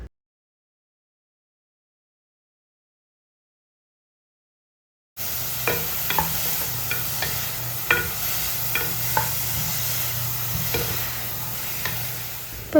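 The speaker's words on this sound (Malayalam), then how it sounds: "അപ്പം സവാള പെട്ടെന്ന് തന്നെ ഒന്ന് വഴണ്ട് കിട്ടാൻ വേണ്ടിയിട്ട് കുറച്ച് ഉപ്പും കൂടെ ചേർത്ത് കൊടുക്കുന്നുണ്ട്." Sliced onions sautéing with salt for a chicken samosa filling: after about five seconds of silence, a steady close sizzle starts, with irregular scraping stirs and light clicks throughout, no voices.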